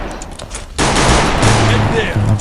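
Rapid automatic gunfire in a shooting video game: a loud, dense, continuous burst that starts abruptly after a brief lull and keeps going to the end.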